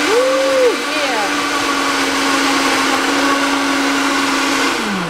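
A blender whirs steadily on a batch of plain bananas for a smoothie, a loud continuous motor drone with a brief pitch rise at the start and a winding-down fade at the end.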